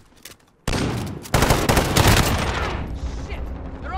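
Loud, close automatic gunfire in Call of Duty: Modern Warfare, a sudden sustained burst of rapid shots that swells and then tapers off, dense and intense over the game's background.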